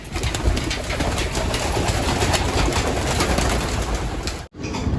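Pigeon hens coo inside a loft and aviary, soft repeated throaty calls close by over a dense, busy background of rustling and flock noise, with a brief break near the end.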